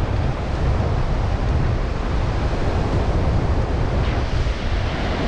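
Sea waves roll onto Mandarmani beach in a continuous, close roar of surf mixed with wind buffeting, loud and unbroken for several seconds.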